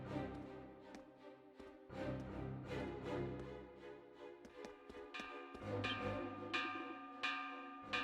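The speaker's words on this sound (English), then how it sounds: "It's a warning bell." A warning bell rings out in the video game Ys IX: Monstrum Nox. Repeated metallic clangs strike in an irregular rhythm over a layered game soundtrack, fairly faint overall.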